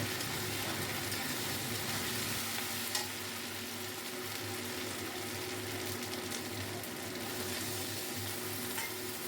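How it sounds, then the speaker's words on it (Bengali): Spices and ginger paste stirred and fried in a pan for khichuri: a quiet, continuous sizzle with faint stirring scrapes, no voices. "এবার আমি দিয়ে দিলাম মশলাটা আদা বাটা দিয়ে ভালো করে মিশিয়ে নেব"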